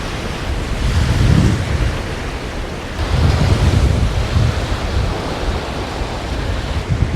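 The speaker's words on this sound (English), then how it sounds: "in this freezing cold, blustery day" Strong gusting wind buffets the microphone at a loch shore on a freezing, blustery day, with a steady broadband roar swelling in loud surges alongside lapping water and no voices.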